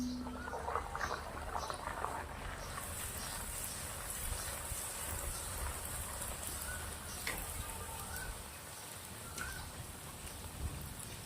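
Puris deep-frying one at a time in reused oil give a steady, soft crackling sizzle throughout, fairly quiet and without talk.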